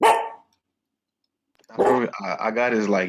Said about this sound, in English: excuse my dog who's barking over here.